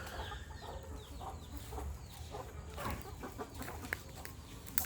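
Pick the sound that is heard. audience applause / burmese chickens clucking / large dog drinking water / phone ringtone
burmese chickens clucking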